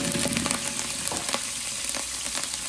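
Vegetables including bottle gourd with chili, salt and asafoetida sautéing loudly in a pan for sambhar, a dense close sizzle with occasional stirring scrapes and pops.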